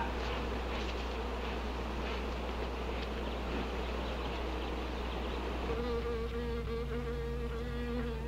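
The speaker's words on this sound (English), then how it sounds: "This isn't a honeybee. These are wasps." A steady swarm of wasps from a 1959 film drones on, a continuous close buzzing that turns slightly more tonal and whiny near the end, with no talk over it.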